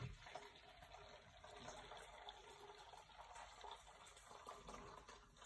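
Hot water is poured steadily into a container of turmeric black soap to make a gel, a continuous even gush that runs without a break.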